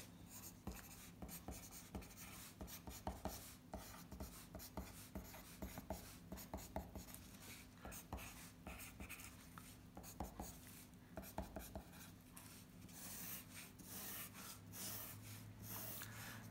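Chalk or marker scratches steadily across a board during a chemistry lesson, with quick rhythmic strokes and taps repeating throughout, fairly close and quiet, with no talking.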